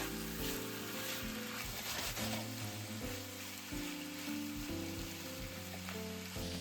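Pork slices sizzle and fry steadily in a reducing ginger sauce in a pan for shogayaki, a dense continuous crackle of bubbling with some lower tonal hum running beneath throughout.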